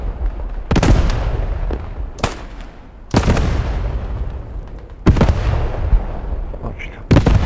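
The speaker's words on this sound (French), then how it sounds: "Artillerie son." Heavy artillery fire in the WWII shooter Post Scriptum, several loud booming blasts about two seconds apart, each with a long rumbling tail, amid battlefield noise.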